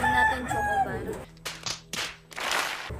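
A rooster crows once at the start, a loud, close, harmonic call, followed by sharp flapping or clapping bursts, with a voice present.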